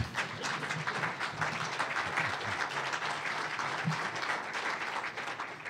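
Steady applause from a large audience at a newspaper company's event, a continuous dense patter of many hands clapping at moderate distance for several seconds with no speech.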